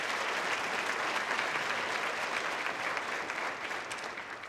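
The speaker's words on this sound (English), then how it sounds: "Can we just get a round of applause for all of the nominees and recipients this morning?" Steady, dense applause from a sizable audience at a chamber of commerce annual meeting, even and sustained throughout before easing slightly at the end.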